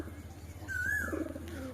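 Pigeons cooing nearby, one soft rising coo standing out over a low murmur of background noise.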